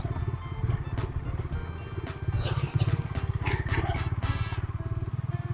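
A motorcycle rides along a rough, muddy road with a rapid, pulsing engine putter, near and steady, with clattering and occasional louder bumps.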